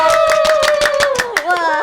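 Applause from a church prayer-meeting audience honoring the ministers and small-group leaders, rhythmic clapping bursts close by with a voice talking over it throughout.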